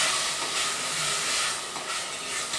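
Washed rice frying with onions and peas in a pan, giving a continuous soft hiss and sizzle that stays even and fairly quiet, with no voices over it.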